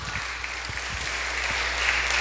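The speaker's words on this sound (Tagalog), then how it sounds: "Palakpak." A church congregation claps throughout a worship service, a dense, steady patter of many hands held at an even level from start to finish.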